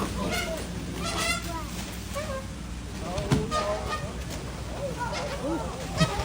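A goose honks repeatedly at a tiger, loud nasal honks coming in irregular bursts, with a voice talking over them at points.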